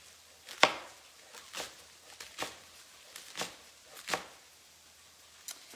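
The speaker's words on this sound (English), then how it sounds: "I'm going to cut the greens into narrow strips" A knife slicing kale greens into narrow strips on a board, giving a series of faint, irregular chopping taps spread over several seconds, quiet and close with no voices.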